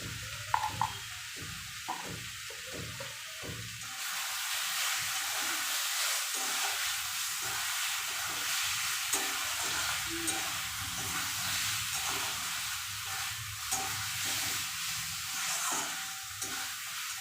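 Green chili paste sizzles and fries in a pan for Bengali egg curry, a steady soft hiss with occasional stirring clatter at the start, heard close and fairly quiet with no talk.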